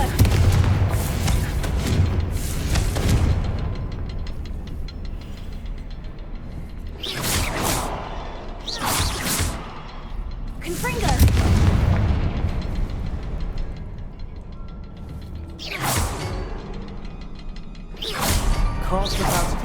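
Repeated Confringo fire spell explosions in Hogwarts Legacy go off as loud booming bursts with whooshes, spaced every few seconds over continuous rumbling game ambience.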